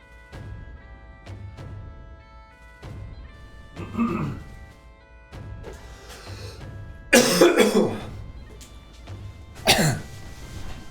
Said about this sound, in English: You guys heard me coughing on the other side of the room.